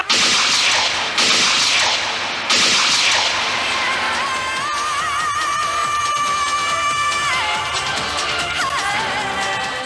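Three sharp, loud gunshots ring out about a second apart in a Hindi crime drama scene, then a sustained, ringing dramatic music score takes over.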